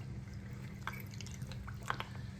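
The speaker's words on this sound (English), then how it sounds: "It actually sounds like it's draining pretty good on the overflow now." Bathroom sink draining water through its overflow, a faint steady gurgle with scattered soft drips and splashes under a low background hum.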